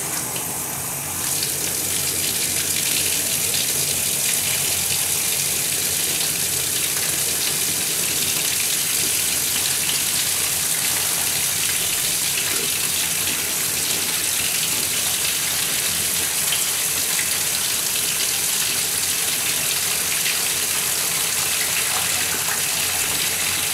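Water runs steadily from a tap in a small soap store, a continuous splashing gush into a sink that stays loud and unbroken throughout.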